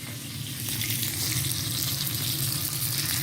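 Chicken wrapped in rice paper fries in hot oil with a loud, steady, crackling sizzle, close up and continuous, with no voices.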